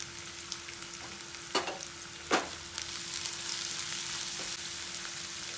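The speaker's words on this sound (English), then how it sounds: "we'll make a small well here and put the hing, pinch of hing actually. Saute it nicely under in the tarka." A pinch of hing (asafoetida) sizzles in hot tarka oil while preparing aloo paratha filling, a steady close frying hiss with a few sharp scraping stirs, no talking.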